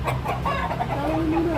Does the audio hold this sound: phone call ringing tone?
no